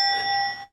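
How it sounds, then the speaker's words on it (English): A single winning bell rings once at the close of a game segment in an interview show, a bright sustained ring that cuts off cleanly after less than a second. "That's the winning bell"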